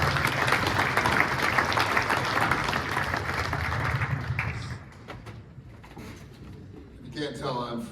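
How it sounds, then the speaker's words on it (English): An audience at a press conference applauds, steady crowd clapping for about five seconds before it thins into scattered claps, with a voice speaking over the fading applause. "Big round of applause for Bill Byrne,"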